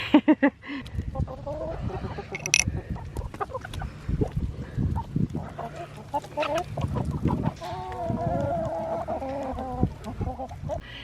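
Several chickens cluck and squawk close by in irregular bursts, with a few louder calls rising above the steady farmyard chatter.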